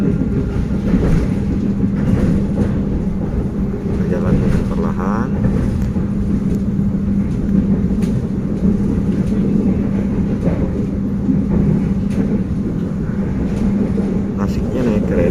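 A passenger train rolls slowly through the station area toward Gambir station in Jakarta, a continuous low rumble with steady hum and faint clanks, heard from on board with a voice talking over it.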